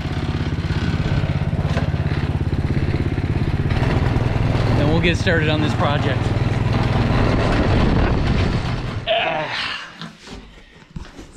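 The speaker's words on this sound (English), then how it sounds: "So let me go put my lawn tractor away." A lawn tractor engine runs steadily for most of the stretch with a low, buzzing drone, loud and close, while someone talks over it; the engine cuts off near the end, leaving quieter sounds.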